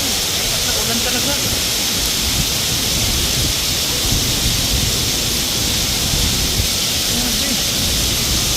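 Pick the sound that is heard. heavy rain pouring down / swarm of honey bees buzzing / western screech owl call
heavy rain pouring down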